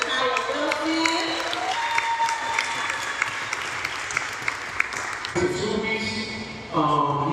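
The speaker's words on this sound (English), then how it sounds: "So please give us a warm applause for my aunt, Nakira Takaya Wilson." Audience at a Malcolm X Day event at a community center giving sustained applause, dense clapping that carries on throughout, with voices talking over it and a brief whistle.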